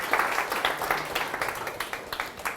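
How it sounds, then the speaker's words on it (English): An audience at a close-up magic talk applauds a volunteer, a fairly quiet, steady patter of many hands clapping throughout with a slight roomy feel. "Round of applause"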